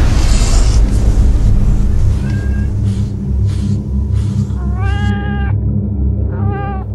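Two drawn-out cat meows sound over a loud low rumble, the first longer and the second shorter, both close and clear, with no voices.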